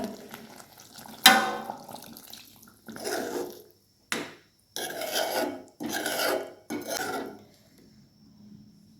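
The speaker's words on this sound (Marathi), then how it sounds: "आपण याच्यामध्ये थोडासा गरम पाणी ॲड करूया." Hot water poured into eggplant cooking in a spicy masala for khara vange, heard as a sharp splash followed by several bursts of loud sizzling and hissing that rise and cut off, then a low simmer.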